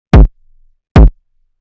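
Two loud, booming kick and 808 hits programmed at full velocity in Ableton, each a sharp punchy thump with a short low tail, spaced under a second apart in otherwise silent surroundings.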